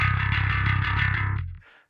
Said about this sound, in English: I've got the GOC Illumina bass prototype, and I've got Parallax X open to the preset that I've made.